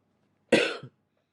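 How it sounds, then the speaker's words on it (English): A single sharp cough, close and fairly loud, with a brief trailing catch at the end, surrounded by silence. "I just coughed."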